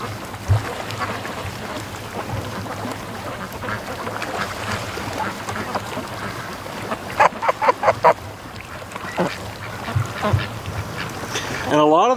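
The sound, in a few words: Muscovy ducks quacking on a lake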